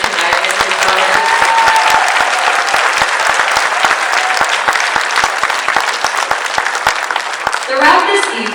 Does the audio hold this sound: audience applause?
yes